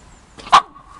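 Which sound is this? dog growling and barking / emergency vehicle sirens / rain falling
dog growling and barking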